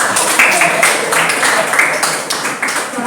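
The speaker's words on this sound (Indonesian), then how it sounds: "tepuk tangan buat kelompok sekarang" A classroom of students claps for a presenting group, a dense, steady patter of many hands that continues close and fairly loud throughout.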